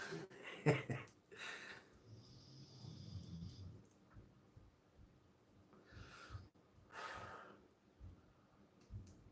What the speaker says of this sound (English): apologies for the dog snoring again